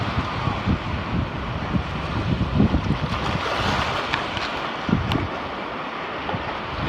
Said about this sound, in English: Man, these waves are gonna take me out.